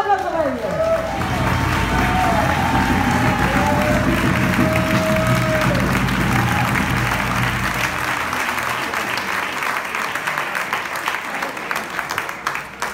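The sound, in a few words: audience applause for the Orquesta Ventolín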